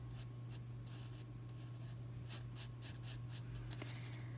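A thin-nib pen colours on paper in a series of short, soft scratchy strokes with brief pauses, close and quiet over a steady low hum.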